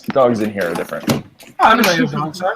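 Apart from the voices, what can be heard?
closing a door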